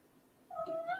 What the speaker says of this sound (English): That's my cat. Excuse him.